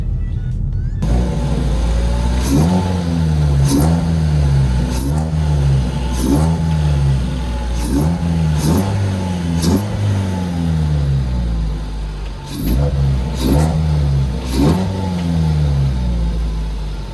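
A Ford Focus engine fitted with a K&N air filter revs repeatedly through a muffler, rising and falling in a steady series of throaty pulses, close and loud.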